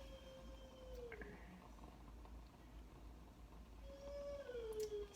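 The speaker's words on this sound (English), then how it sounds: "Sorry, my dog." A dog howls at home, giving a faint drawn-out wail that rises and falls twice, once near the start and again louder near the end, over a low steady background hum.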